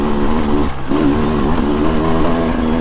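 A 2023 Beta 300 Race Edition two-stroke dirt bike engine runs steadily and loudly up close on a mountain trail, with a continuous buzzing drone that wavers slightly in pitch with the throttle.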